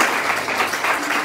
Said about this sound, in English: let us give ourselves a round of applause.